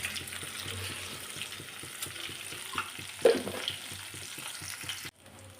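Cumin and other tempering seeds fry in hot oil in a kadai, a continuous close sizzle with light crackles and a soft stir that cuts off abruptly just before the end.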